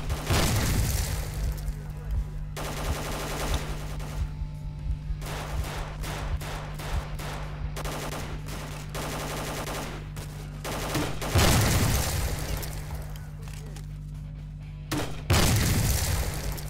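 Gunfire in the video game S.T.A.L.K.E.R. Gunslinger, with loud bursts of automatic fire and single booming shots separated by short pauses, and a voice talking at times.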